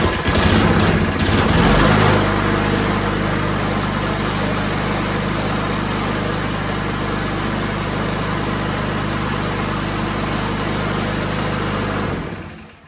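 A free used lawn mower engine catches after a brief rough start and settles into a loud, steady, droning run close by for about ten seconds, then cuts off, no talking over it.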